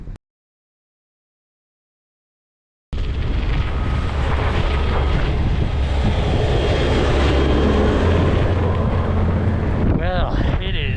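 Strong cold headwind roaring across the microphone on a bike ride in Winnipeg, a loud continuous rumbling blast that starts abruptly after a few seconds of silence and holds steady, with a brief voice near the end.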